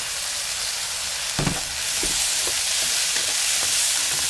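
Long eggplant with soybean paste is stir-fried in a pan, a loud steady sizzle broken by several scraping and clanking stirs of the spatula, close up with no voices.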